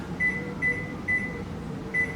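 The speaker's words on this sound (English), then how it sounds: "pop it in the microwave" Microwave oven runs with a steady low hum, while four short evenly spaced beeps sound over it from nearby.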